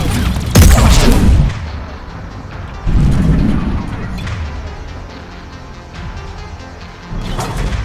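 Grenades explode in the Mass Effect 3 video game, two heavy booming blasts with crashing debris, each fading into a rumbling tail.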